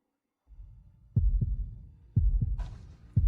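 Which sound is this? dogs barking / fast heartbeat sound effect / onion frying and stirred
fast heartbeat sound effect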